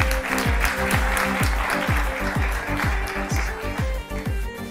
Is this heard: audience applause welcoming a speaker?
yes